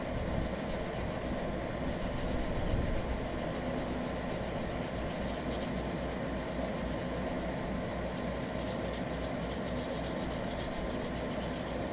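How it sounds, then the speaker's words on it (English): A camp knife is sanded to rough up its surface and work over bad spots, making a continuous close, gritty rubbing and scraping that holds steady throughout with no talk. "I'm not going to try to sand everything off. Just going to rough it up"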